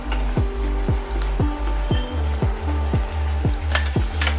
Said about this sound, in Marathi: आता आपण कापून घेतलेला टमाटा टाकायचा आहे।